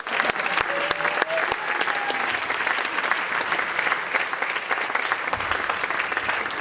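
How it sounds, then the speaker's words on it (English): Steady, dense applause from an audience of parents at a school winter concert, sustained throughout with scattered sharper claps and a faint whistle near the start. "So let's give a round of applause."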